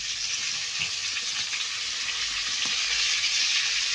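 Stuffed brinjals filled with peanut, chilli, turmeric and coriander masala sizzle steadily in a pan, a loud continuous frying hiss with faint stirring clicks throughout.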